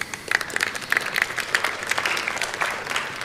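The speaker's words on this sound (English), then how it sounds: "applause." Audience applause at a tech talk on building reusable UI components in Vue, a steady patter of many hands clapping through the room, moderately loud, with no talking over it.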